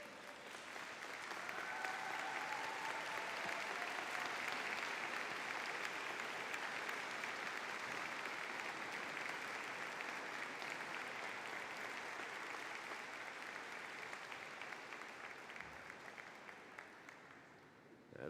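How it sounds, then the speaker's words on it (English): Long, sustained applause from graduates honouring parents and supporters at a university conferring ceremony, a broad steady wash of clapping with faint cheers, easing off near the end. "show your appreciation with a round of applause"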